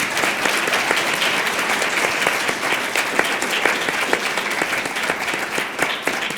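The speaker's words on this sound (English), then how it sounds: "Please join me in thanking our panel with a round of applause." An audience claps to thank a panel of speakers at the end of a journal club session, dense sustained applause with individual sharp claps standing out, steady and fairly loud throughout.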